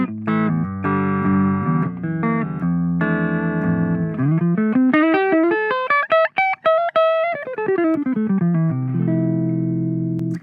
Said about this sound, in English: essentially my clean sound on the neck pickup sounds like this